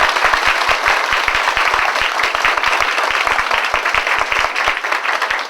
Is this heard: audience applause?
yes